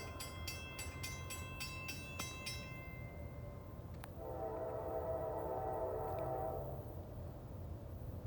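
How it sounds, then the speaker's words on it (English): A CSX freight train rounding a super-elevated curve: a series of loud horn blasts opens, then the rolling rumble of the cars continues while a sustained metallic squeal rises and fades. "It always looks cool when the train comes around this curve."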